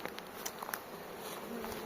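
Honeybees buzz steadily on a frame from a strong late-season split in a forest apiary, a close, continuous hum with faint patter and small bumps from the handled frame, no one speaking.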